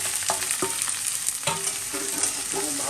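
Cumin and onion fry in oil for a fish jhal, making a close, steady sizzle punctuated by several sharp spatula scrapes and knocks against the pan.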